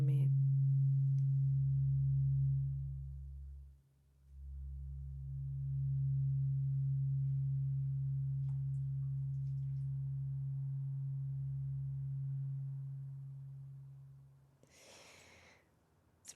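A sustained mid-pitch tone from an Acutonics sound therapy tuning instrument rings steadily and fairly loud, dipping briefly once before continuing, then fading out near the end with a short rustle.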